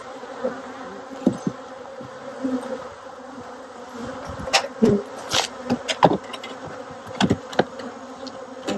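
Honey bees buzz around a hive outdoors in Tennessee, a soft, steady hum broken by brief louder passes as individual bees fly close to the listener.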